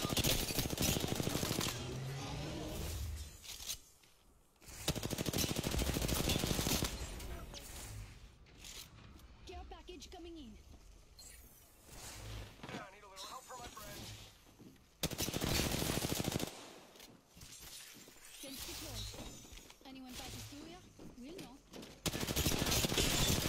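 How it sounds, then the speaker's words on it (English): Automatic gunfire in the video game Apex Legends rips out in loud, dense bursts, separated by quieter stretches where a player talks over faint game sounds. "Shots fired and they're hitting me."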